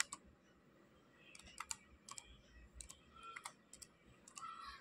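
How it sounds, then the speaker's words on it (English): A computer keyboard clicks in short irregular runs of keystrokes as a command is typed, close and quiet with no talking. "Now we need to type for the cd regback."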